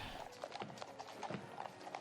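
Horses in the Queen's funeral procession clip-clop on the road, several hooves striking in a brisk, uneven rhythm at moderate distance over a murmuring crowd.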